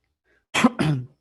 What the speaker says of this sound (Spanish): esta tos se me va a manifestar ahora al momento de la explicación de la práctica